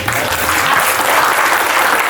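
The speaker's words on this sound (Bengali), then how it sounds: "কম হলেও হাততালি জোরে হোক।" An audience at a cultural festival stage event applauds to welcome a group president; loud, dense, continuous clapping with no break.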